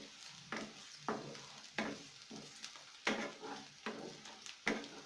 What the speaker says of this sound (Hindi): अब मैं इसमें प्याज और हरी मिर्च डालूंगी। और इसे अच्छे से मिक्स कर दूंगी।